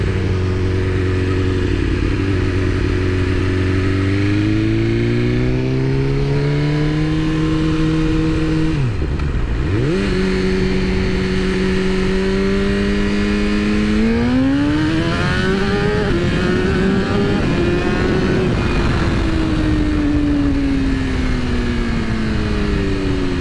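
A BMW S1000RR sport motorcycle engine runs loud and close, idling then revving up and down in smooth rising and falling sweeps with a brief sharp dip, steady throughout.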